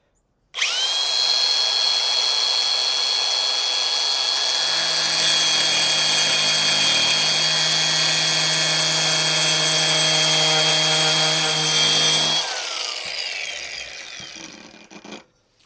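Angle grinder with a diamond blade slicing through glossy tile, a loud, sustained high-pitched whine with a rough grinding edge that runs for about twelve seconds, then winds down as the blade spins to a stop.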